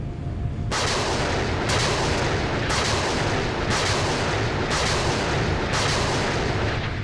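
RIM-116 RAM missiles launch in the naval game Sea Power, about six loud, close blasts spaced roughly a second apart over a constant heavy rumble.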